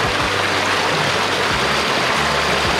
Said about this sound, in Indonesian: Ini di tengah jalan kita nemuin air terjun, airnya juga jernih banget.